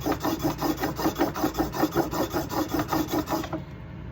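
A knife bevel is rubbed back and forth against a sharpening surface on a Rieger oboe reed machine, giving about fifteen steady, evenly paced rasping strokes up close that stop abruptly near the end.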